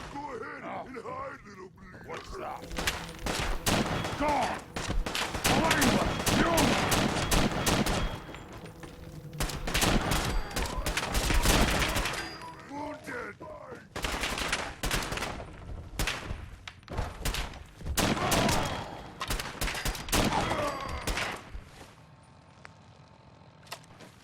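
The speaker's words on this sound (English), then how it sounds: "the Gun Sounds and Bullet Cracks version of Commonwealth Warfare makes flying bullets sound like the death-carrying ballistics that they are" Bursts of gunfire and sharp bullet cracks from the Fallout 4 Commonwealth Warfare gun-sound mod, loud, dense volleys rattling almost continuously with brief pauses between clusters, no talk.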